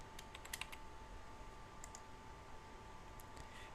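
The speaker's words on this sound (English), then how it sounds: "simply type in the name of the page" Quick, light clicks of typing on a computer keyboard, a name being entered while setting up a page in a WordPress blog. The bursts come in short uneven runs with pauses between them over quiet room tone.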